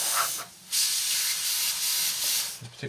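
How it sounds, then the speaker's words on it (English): Airbrush paint spraying onto a Trumpeter 1/32 AV-8B Harrier scale model, with short hissing bursts, a brief pause, then a longer sustained close hiss that tapers off. "we're just going to spray this in now"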